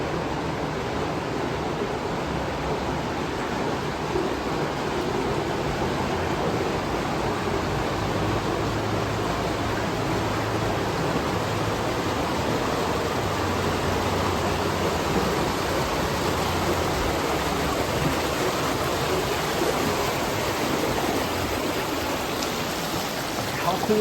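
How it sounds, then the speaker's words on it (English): Steady, full-bodied rush of flowing water echoing inside a tunnel under State Route 172 in Massillon, broad and reverberant, continuous and loud with no break. "It's all that sounds of that water just amplified under there."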